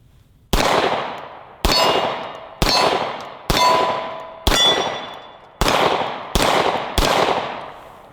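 Hi-Point pistol firing cheap steel-cased ammunition, eight sharp, loud metallic shots at a fairly steady pace, each ringing briefly before the next, with no talking.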